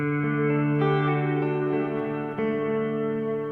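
An electric guitar plays sustained chords through a Hall of Fame reverb pedal into a Tone Master Deluxe Reverb amp, the notes ringing long and washing together in a steady, moderately loud tone with no talk.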